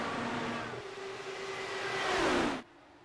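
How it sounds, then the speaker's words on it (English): Race cars on an oval track at an Indy 250 event, engine whine building loudly for a few seconds as they pass, then cutting off abruptly. "Could just hear the cars wind up."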